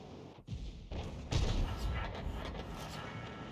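An artillery shell strikes a T-34-1 tank in World of Tanks, landing as a loud, sudden boom followed by a sustained rumbling crash, with battle noise continuing around it.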